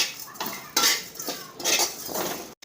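Grated coconut stir-roasted in a pan for homemade bakarwadi, a metal spoon scraping and clinking against the pan in irregular close strokes between quiet gaps.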